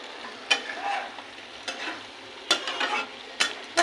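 A shoya curry with its gravy cooked down sizzles softly in the pan as garam masala powder goes in. Several sharp scraping strokes of the stirring spoon come through over the quiet frying.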